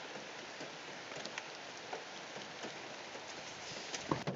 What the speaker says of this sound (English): the rain's not so bad now